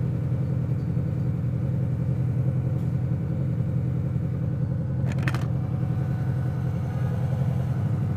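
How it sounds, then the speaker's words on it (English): A Triumph 400 motorcycle sits parked on a hot day in Gatlinburg, Tennessee, with its cooling fan running. It makes a steady, low, humming drone at moderate distance, and a brief click and rattle sound nearby partway through. "Roland's bike fan is on."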